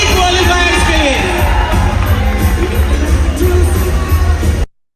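Crowd at a recognition event cheers, whoops and claps for the qualifiers, a dense, loud burst of cheering that holds steady for about five seconds and then cuts off abruptly.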